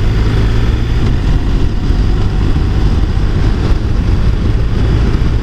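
A motorcycle being ridden gives a steady, loud low drone of engine and road noise mixed with constant wind roar. It runs unbroken throughout, with no voices.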